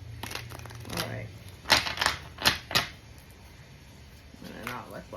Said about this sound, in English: I'm gonna not look while I shuffle them, and then we'll stop when I say stop.